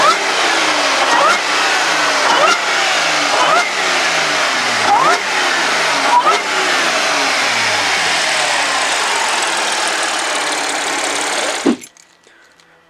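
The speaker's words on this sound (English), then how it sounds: "I'll start it up and give you guys a couple revs." An Audi S4 fitted with an Injen cold air intake revs repeatedly, its engine note climbing and falling in several loud, close pulls over a steady idle before cutting off abruptly near the end.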